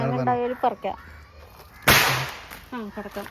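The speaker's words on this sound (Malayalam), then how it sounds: "പടക്കം പൊട്ടുണ്ട്" One loud, sharp firecracker burst goes off near the middle, set against ongoing talk outdoors in a home garden with flowering mango trees.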